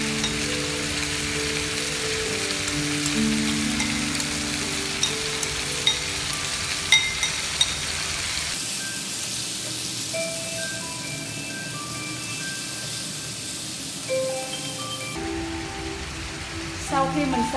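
Octopus stir-frying with a spicy sauce in a pan for a Korean dish, a loud steady sizzle and crackle with scraping stirring, a voice talking over it in the first half, the hiss continuing on its own afterward.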